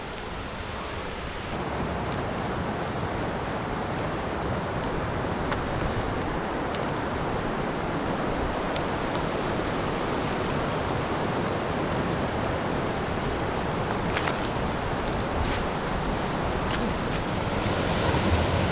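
Smoky Creek in the Bob Marshall Wilderness rushes loudly and steadily as it drains from the Necklace Lakes, a dense, unbroken roar filling the whole stretch.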